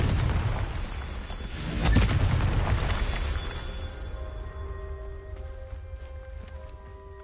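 A Confringo fire-blast spell bursts in Hogwarts Legacy: one heavy, rumbling boom swells near the start and then fades into a long, decaying hum of game ambience.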